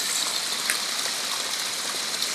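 Floodwater rushes loudly and continuously close by, a dense steady roar of gushing water with no voices.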